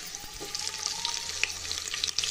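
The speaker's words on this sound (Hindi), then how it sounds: "तो ये हमारा प्याज और लहसुन तड़कने लगेगा हल्का हल्का सा" Onion, garlic and green chillies sizzle steadily in hot oil for a dal tadka, a close, even crackle with scattered small pops and no talking.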